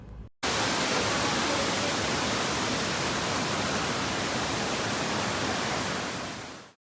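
Ravana Ella waterfall in Sri Lanka, the country's widest fall, roars as a dense, steady rush of falling water that is loud and close and continues unbroken throughout.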